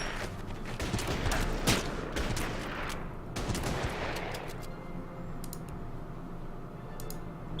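Bursts of strategy-game gunfire aimed at conscripts in Order of Battle, a WWII Sevastopol battle: dense clustered shots for the first few seconds, then sparser scattered cracks fading toward the end, with no voices.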